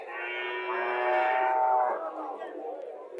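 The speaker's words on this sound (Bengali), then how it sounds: "এটা হচ্ছে দেশি গাভি এটা ছোট একটা গাভি দেশি গাভি" A single long, drawn-out moo from a small native Bangladeshi cow, loud and close, holding steady before tapering off at the end.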